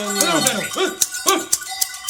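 A dog barks in short, sharp yips at an irregular rhythm, close by, while livestock bells clank and a voice sounds in the rural Extremadura setting.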